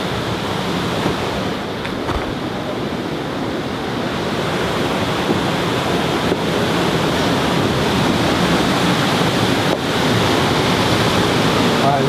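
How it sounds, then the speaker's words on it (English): Steady rushing water roars continuously, loud and close, with a broad hiss and no distinct pauses. "I love hearing the waterfall in the background."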